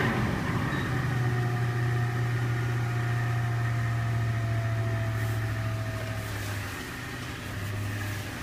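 A 2005 Toyota Tundra engine runs just after a cold start at minus one degree, holding a steady, even idle drone for the whole stretch.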